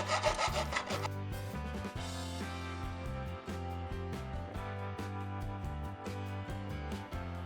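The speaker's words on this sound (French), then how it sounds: "pour cela j'utilise une lame de scie à métaux" Hacksaw blade cutting open the casing of a cheap Ultrafire 3000mAh battery, with repeated rhythmic back-and-forth rasping strokes, close and steady, after a brief louder scrape at the start.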